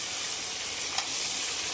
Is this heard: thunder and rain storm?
no